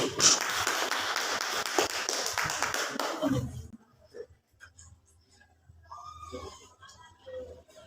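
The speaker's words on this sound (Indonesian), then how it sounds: "Oke, baik, tepuk tangan dulu" A classroom of students applauding after a group presentation, a dense burst of clapping for about three seconds that then stops, leaving quiet room noise and a few soft taps.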